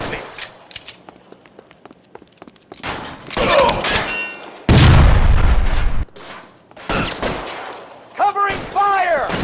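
Gunfire in the L.A. Noire video game: a few loud shot bursts and booms break up a quieter stretch, with a heavy sustained burst near the middle and speech-like voices toward the end.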